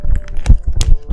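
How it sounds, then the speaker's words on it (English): A physical paper journal handled up close: a brief run of soft, crisp rustling and tapping bursts, the loudest near the middle and again toward the end, with no talking. "that's the sound of my journal."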